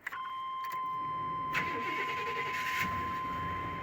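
A 1991 GMC Sierra 1500 pickup starts with a brief crank, then the engine catches and settles into a steady idle. A constant high chime-like tone runs under the engine throughout.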